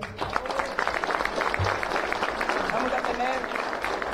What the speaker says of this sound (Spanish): Señores diputados, un aplauso también para ellos.